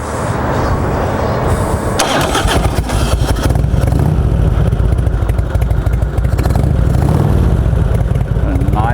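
A Harley-Davidson Heritage Springer motorcycle starts up and settles into a loud, close, low rumbling run, with a steady throb beginning after a brief crank.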